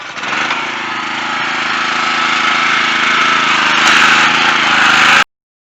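A car fitted with a custom homemade exhaust roars on a cold start at a cars-and-coffee meet, a loud, rough, steady engine drone that swells slightly before cutting off abruptly.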